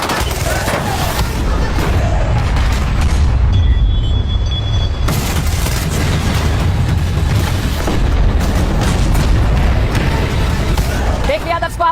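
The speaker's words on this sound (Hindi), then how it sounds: "तोप और टैंक के साथ शक्ति प्रदर्शन किया गया है।" Indian Army artillery guns and tanks firing during a war exercise, heavy booms and rumbling blasts under continuous loud talk.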